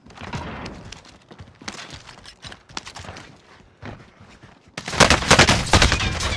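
Gunfire in Call of Duty Warzone on Rebirth Island: scattered bursts of automatic fire, some distant, build into a loud, dense volley of rapid shots near the end.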